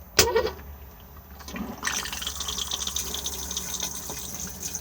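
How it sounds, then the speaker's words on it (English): A Thetford cassette toilet in a Benimar Benivan campervan flushes: a sharp click, then water gushing and hissing into the bowl, close and steady until the end. "blue button to flush"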